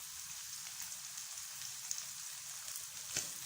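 Onions frying in a pan of chicken for Chinese fried rice, giving a steady, rain-like sizzle that holds even throughout, with a couple of faint pops and no one talking.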